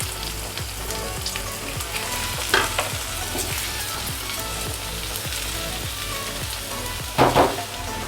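Potatoes sizzle and fry steadily in a pan with okra, a close continuous crackle with rhythmic stirring scrapes and a couple of louder bursts of spatter.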